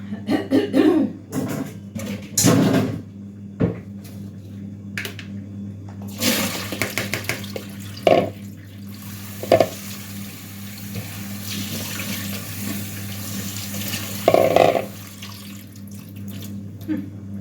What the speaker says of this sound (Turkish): Pirinci süzdürdüm.